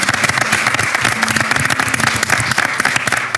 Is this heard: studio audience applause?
yes